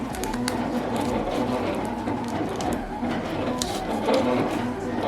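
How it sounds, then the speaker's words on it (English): A Silhouette vinyl cutting machine runs continuously in a craft room, a steady mechanical whir with rapid clicking carriage movements, fairly loud and close throughout, with no voices over it. "I hope that you can hear me over the silhouette running in the background"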